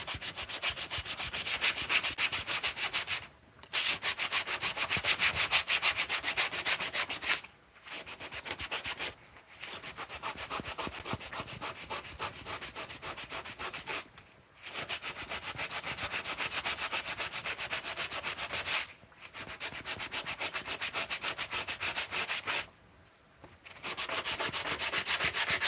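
Sandpaper rubbing steadily over a surface in long continuous strokes, broken by several brief pauses, close and loud with no voices.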